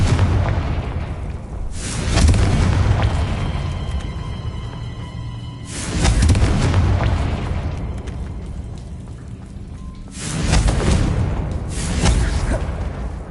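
Confringo fire-spell blasts in the video game Hogwarts Legacy, three heavy booming explosions spaced a few seconds apart, each with a rumbling tail that fades into the next.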